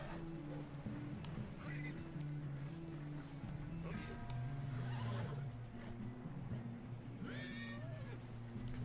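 A horse in the video game Red Dead Redemption 2 lets out a few whinnies and snorts over a low droning game score, with other faint in-game sounds mixed in at moderate volume.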